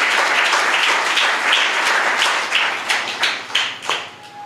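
An audience at a Telugu Christian sermon breaks into clapping. It starts as a dense wash of applause, then thins into scattered, uneven claps and fades out near the end.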